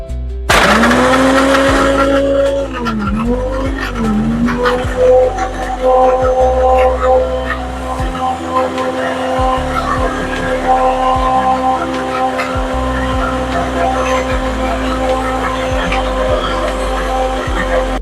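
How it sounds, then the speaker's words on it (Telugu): A blender whirs loudly as it crushes ice cubes in a Rooh Afza lassi. The motor starts with a rising whine and rattle, then settles into a long, steady grinding drone. "బ్లెండ్ చేసేసుకుందాం మనం ఈ లస్సీని."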